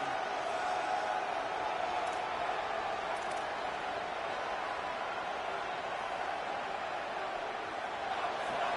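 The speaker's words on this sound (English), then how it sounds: "Here comes this home crowd as the defense tries to get off the field on 3rd down." Home crowd roaring steadily in an NCAA football video game stadium as the defense faces third down, a dense continuous wash of cheering throughout.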